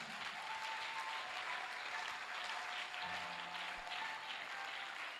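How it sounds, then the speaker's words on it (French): A church congregation applauding and cheering for Jesus during a prophetic preaching service, steady sustained clapping from a large crowd with a faint voice underneath, lasting throughout. "Est-ce qu'on peut acclamer Jésus?"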